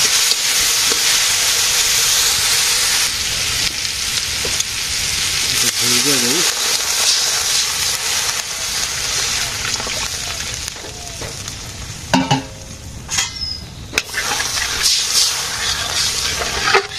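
Turmeric, chili and coriander powder frying in oil in a village kitchen pan, a constant broad sizzle throughout with a few clinks of utensils and brief bumps later on.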